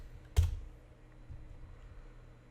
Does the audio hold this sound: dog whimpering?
no